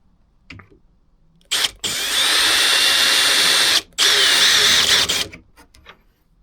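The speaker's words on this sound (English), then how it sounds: "we'll drill this one out as well." A power drill bores out a part for a camping drawer build on a Discovery 3, starting with a short burst, then running in two long, loud, close whines broken by a brief pause.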